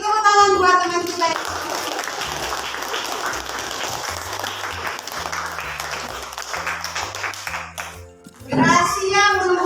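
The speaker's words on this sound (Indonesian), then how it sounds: "Beri tepuk tangan buat teman kita" A classroom of students applauds a classmate, steady clapping filling most of the moment with children's voices mixed in, a teacher's voice returning near the end.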